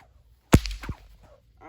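A small, lightweight 4-foot snake whip cracks once with a sharp snap, followed by a softer secondary snap; the crack is fairly weak and not very loud, alone in a quiet room.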